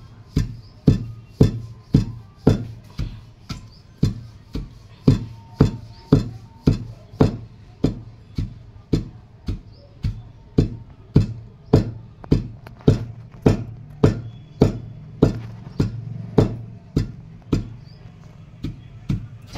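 Chili powder spices and salt pounded together in a mortar, giving a steady, loud run of heavy thuds at roughly one or two per second that keep going for about twenty seconds with no talking.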